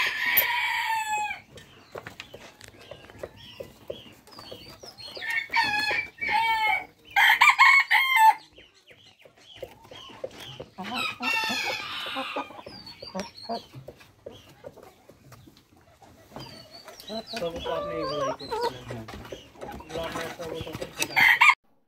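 At a poultry farm in Gabtali, Bogura, Brahma chickens cluck loudly and close by while a rooster crows several times, with people talking now and then amid the flock.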